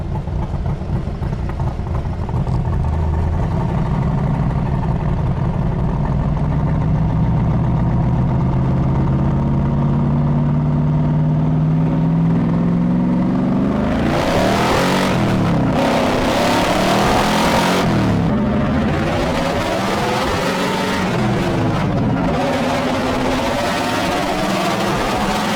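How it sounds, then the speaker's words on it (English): A fast car's engine idles and climbs steadily in pitch, then revs hard in loud repeated surges as it drives, close and dominant with no talking. "This thing's got power, brother. This thing is fast, China."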